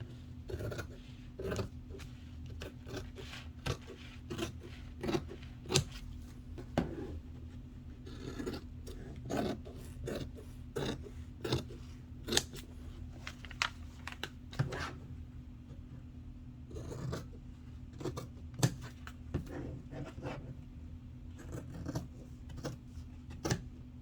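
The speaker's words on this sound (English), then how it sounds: "I'm just going to use my scissors" Scissors cutting material while making a pixie, a long run of quiet, close snips and crisp shears at an uneven rhythm over a low steady hum.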